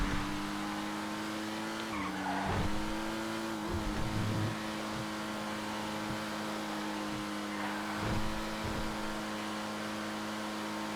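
Race cars in a multi-class endurance race in GTA FiveM, a steady close engine drone with pitch dips on downshifts, bursts of tire skidding and squeal around the second and eighth seconds.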